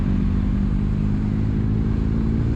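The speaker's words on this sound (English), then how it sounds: "The exhaust note's nice. Nice sort of throaty rumble." BMW R1250R SE motorcycle, a 2023 model, giving a deep, throaty exhaust rumble as the throttle is twisted, steady and loud throughout with a continuous low engine drone and no talking.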